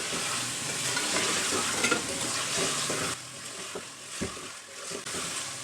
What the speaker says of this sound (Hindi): अब मैं इसमें ये टमाटर और हरी मिर्च डालूँगी।